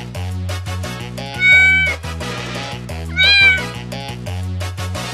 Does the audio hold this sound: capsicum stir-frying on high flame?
no